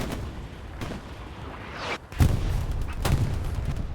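Gunfire and heavy booms in a chaotic Hell Let Loose match, with sharp bursts of shots and explosions over a constant rumbling battle din, loud and close.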